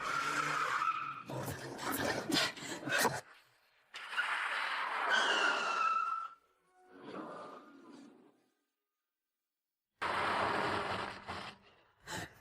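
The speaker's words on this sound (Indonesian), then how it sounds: "Ban pecah, kenapa bisa tiba-tiba pecah?" A car skids with loud tire squeals after a tire bursts, several separate screeching bursts broken by short silences, close and harsh.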